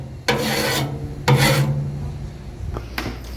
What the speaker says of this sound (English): scrape off your Blackstone, clean it up, burn all this off.